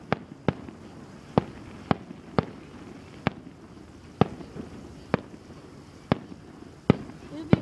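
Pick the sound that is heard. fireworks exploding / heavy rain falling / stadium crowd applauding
fireworks exploding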